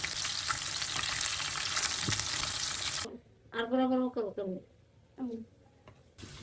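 Food frying in a pan gives a loud, dense, steady sizzle for about three seconds, then cuts off as a person begins talking over a quiet background.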